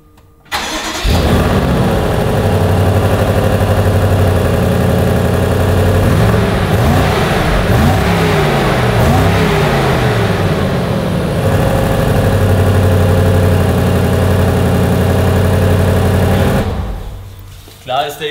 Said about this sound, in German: man hört schon dieses Bollern, dieses V8-Gebrubbel, das hört man schon raus